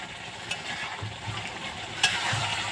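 Chicken meat fries in the oil it has released, a moderate, continuous sizzle with a couple of sharp clinks or scrapes of stirring, and no voices.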